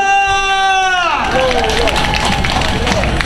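A festival crowd at an overseas Korean singing contest claps and cheers to welcome a guest singer, following a brief sustained musical tone. The dense, steady roar of applause and shouting fills the rest of the moment.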